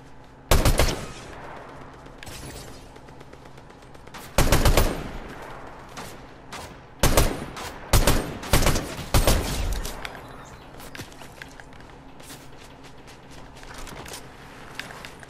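Bursts of gunfire in Fortnite, several sharp rapid volleys with short gaps between them, loud and close, over a quieter game background.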